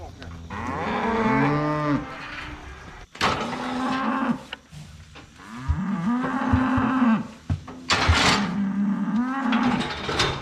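Cattle moo loudly and repeatedly as they are herded into a chute for calf processing and pregnancy testing, long drawn-out calls overlapping one another close by with brief pauses between.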